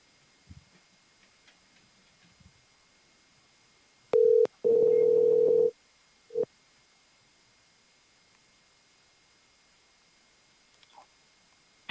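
A phone line rings while a call is placed back, with two short tonal bursts and a longer steady tone in the middle, followed by a brief blip, all quiet and isolated against a near-silent background.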